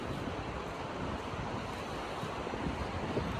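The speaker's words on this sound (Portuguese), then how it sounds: "só o som do mar, o som de Deus ali." Sea waves wash onto the beach at Praia Grande, a continuous roar of surf mixed with wind buffeting the microphone, with no voices.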